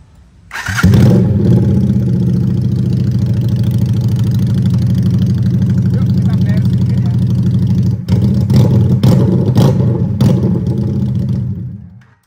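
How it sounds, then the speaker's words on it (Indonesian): SM V16 custom motorcycle with a custom Vivlo exhaust fires up and settles into a loud, steady, throaty idle close by, with a few sharp revs near the end before cutting off. "seperti apa sih suara knalpot customan by barangdagangan.id ketika dinyalakan"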